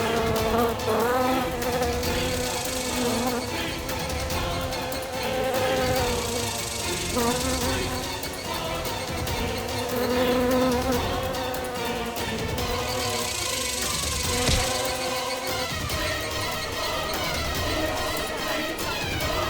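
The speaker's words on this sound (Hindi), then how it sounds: "ये मक्खी आपको कुछ नहीं करेगी" A housefly buzzes steadily and up close throughout, a continuous droning whine with slight swells in pitch and loudness, heard over a dense, busy background during a courtroom drama scene.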